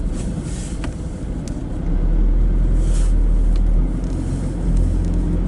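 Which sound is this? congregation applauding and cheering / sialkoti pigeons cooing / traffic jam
traffic jam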